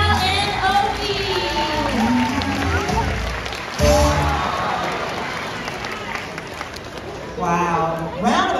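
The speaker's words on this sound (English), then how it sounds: "Round of applause for Val and Opie." An audience at a SeaWorld Orlando otter show claps and cheers, with bursts of applause rising and falling under an announcer's talking.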